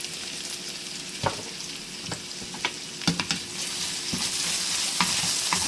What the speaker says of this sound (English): I'm also going to add my onions that I cut to scatter inside of my hash brown.